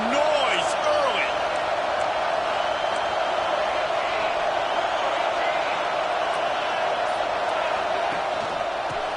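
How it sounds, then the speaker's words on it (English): A college football stadium crowd at a game against Auburn gives off a steady, roaring wash of noise with scattered whoops and shouts. It sounds distant and fills the whole stretch. "This crowd bringing the energy and noise early."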